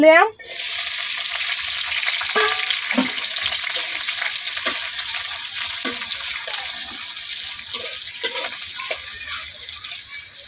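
Onion, green chili and garlic frying in hot oil crackle loudly and steadily, with occasional stirring scrapes and clinks from the pan throughout and a brief splash of water near the start.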